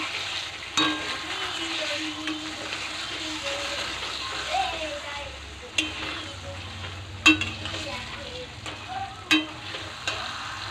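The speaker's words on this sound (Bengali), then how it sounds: "এখন আমি এই টমেটোগুলো দিয়ে দিচ্ছি, টমেটোগুলো কেটে রেখেছিলাম সেগুলো দিয়ে দিচ্ছি।" Chopped tomatoes hitting hot oil and spices for mutton kasha, giving a close, continuous sizzle with sharp stirring scrapes and clinks of a spoon against the pot, a voice talking over it.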